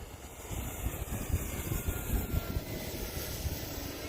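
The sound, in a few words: RC airplane flying, whistling like a jet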